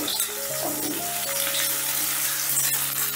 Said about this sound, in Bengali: প্রথমে আমি কুমড়ো আর আলুগুলোকে ভেজে নেব।